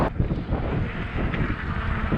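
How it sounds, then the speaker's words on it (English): Strong wind roars and buffets against the microphone while riding an e-bike on a very windy day, a loud continuous rumble with gusty surges. "I'm gonna ride on the sidewalk because it's really windy"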